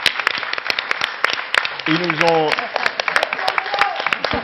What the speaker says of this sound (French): D'abord, on va les applaudir, les Ferrandi